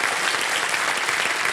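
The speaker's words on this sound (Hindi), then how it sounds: "एक बार फिर तालियों के साथ इनका अभिनंदन और आपको बधाई लेते हैं।" Studio audience applauding on the KBC quiz show set, a steady, dense wash of clapping from many hands that fills the whole moment without a break.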